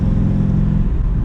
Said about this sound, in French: C'est un moteur qui a énormément de couple.